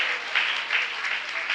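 A church congregation claps hands together in sustained, dense applause, steady and fairly loud throughout with no clear voices on top.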